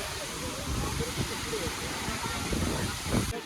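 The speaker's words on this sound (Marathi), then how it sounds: "बघा धबधबा किती मस्त आहे" Steady broadband rush of a waterfall near the Ekvira Devi temple at Lonavala, continuous and fairly loud throughout, with faint voices and bustle mixed in.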